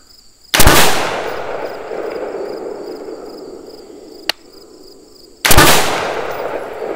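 Two loud rifle shots ring out about five seconds apart outdoors on a range, each a sharp crack with a long decaying echo, and a faint click sounds in between.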